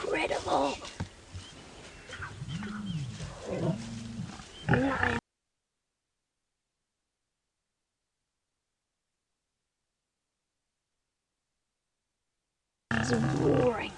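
Lions roaring after a brief scuffle among adult males near cubs on a live African safari drive, deep grunting roars rising and falling for several seconds under a commentator's voice, then silence before more close vocalizing.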